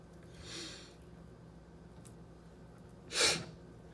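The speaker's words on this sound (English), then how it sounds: "I'm sorry for the breathing and the sniffling here." Two close, breathy sniffs or sharp nasal inhales while cutting chicken wings at a joint, a softer one early and a louder one near the end, with quiet in between.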